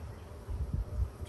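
Honey bees hum in a low, steady drone close by during a hive inspection, with the buzz swelling slightly in the middle of the short stretch.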